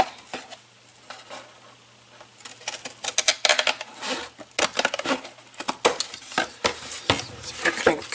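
Scissors or a blade cut a V into a cardboard shoe box, a close run of irregular crunching snips and scraping that grows busier after a quiet start.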